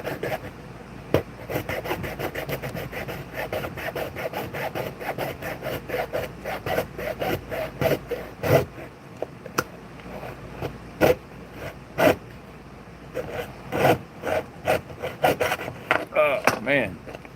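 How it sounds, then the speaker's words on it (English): A fine-toothed razor saw cuts a tabletop terrain piece in a steady series of quick rasping back-and-forth strokes, close and fairly loud, with short pauses between bursts. "So these razor saws are great, but they do come in different size teeth"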